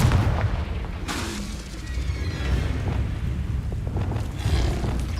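A Confringo blasting spell fires in Hogwarts Legacy, landing as a heavy booming blast with a rumbling tail, followed by further loud explosive bursts, all close and without speech.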